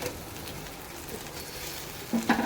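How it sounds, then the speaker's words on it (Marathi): A dosa crisps on a pan over a gas flame with a soft, steady sizzle that stays quiet and close throughout. A couple of light clinks sound near the end. "आपला डोसा एकदम कडक बारीक गॅसवर ठेवला ना छान असा कडक होतो"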